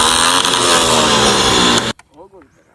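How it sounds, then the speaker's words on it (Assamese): A modified motorcycle with an aftermarket exhaust roars loudly at high revs for nearly two seconds, then cuts off abruptly, followed by a brief bit of someone talking. "এতিয়া তোমালোকক এতিয়া বাইকৰ চাউণ্ডটো শুনাই আছোঁ"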